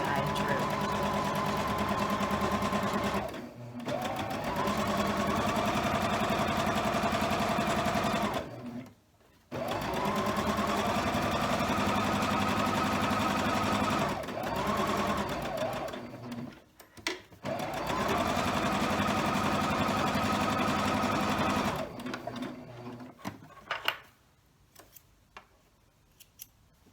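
A sewing machine stitches quilt block seams a scant quarter inch from a drawn diagonal line, running in three long steady bursts with short pauses between, then stopping before light handling noises at the end.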